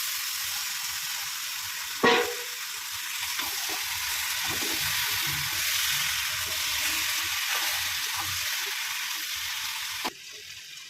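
Boiled vegetables and dried fish fry in a pan with a steady, close sizzle. Louder scrapes of stirring come near the start and again near the end, and no one talks.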